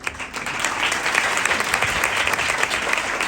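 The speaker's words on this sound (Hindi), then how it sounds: "तो ये तालियां मेरे लिए नहीं होती, ये उसके कलाम के लिए होती है।" Steady applause from an audience, dense clapping that stays loud and even for a few seconds with no talking.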